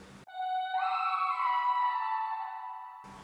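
Unequalized Arcade Distant Voices preset in FL Studio: a full, bright sustained vocal-like pad chord that rises and holds for a few seconds, framed by short low drum thumps at the start and end.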